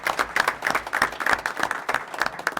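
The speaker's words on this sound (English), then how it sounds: "you get a round of applause, too, for tremendous leadership this year" A short burst of applause at a board meeting, many hands clapping together at a moderate volume.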